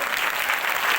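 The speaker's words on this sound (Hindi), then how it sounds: "तो जोरदार ताली हो गया ना" A burst of loud, dense audience applause at a Hindi-language gathering, steady and sustained throughout with no voices over it.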